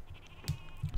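Sheep bleating from a pasture in Civilization 5, a few short faint bleats over a quiet game background.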